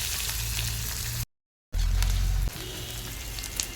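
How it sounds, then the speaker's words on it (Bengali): Chopped onions frying in a pan in a village kitchen, a steady close sizzle cut by a short silent gap, with a low hum under the first part. "পেঁয়াজটা ভাজা ভাজা হয়ে গেছে"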